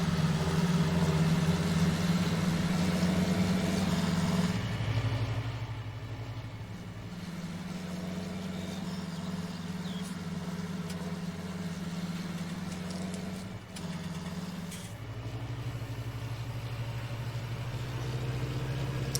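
A tractor towing a folding seeder idles in Farming Simulator 19, a loud, steady low engine drone that shifts pitch a few times as revs dip and rise, with no talk over it.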